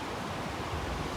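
Habagat monsoon wind blowing across the beach at Boracay, a steady broadband roar of gusting air and surf with no pauses, fairly loud and close to the microphone.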